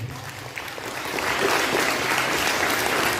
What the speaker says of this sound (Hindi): इस रेनबो के लिए जोरदार ताली बजाएं।